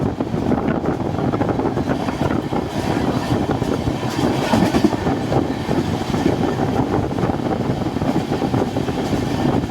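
A train on the Kolkata to Vizag route, running nonstop between Kharagpur and Balasore, rumbles and clatters loudly and continuously on the rails, with wind buffeting throughout.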